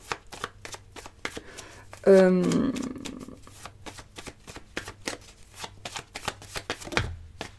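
Tarot and cartomancy cards are shuffled close by with rapid, repeated papery riffles and taps. A sharp burst partway through briefly stands out, and a voice speaks quietly at times.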